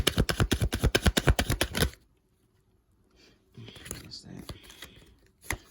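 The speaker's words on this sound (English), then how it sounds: "Sorry if that shuffling sounds loud." Tarot cards riffled rapidly and rhythmically for about two seconds, loud and close, followed by quieter handling and a few soft taps.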